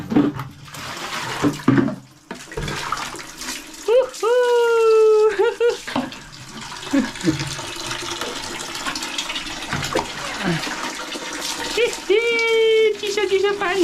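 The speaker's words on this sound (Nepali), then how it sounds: "साथी नुहाउनु पर्यो" Cold water splashes and pours as a village dog is bathed for the Tihar festival, uneven bursts of water with people talking and singing throughout.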